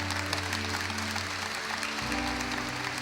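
Steady applause from a crowd fills the whole stretch, dense and even, with a low hum running beneath it.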